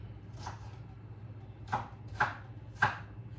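A knife chops a white onion on a board, four separate crisp thuds spaced irregularly against quiet kitchen hum, close but soft.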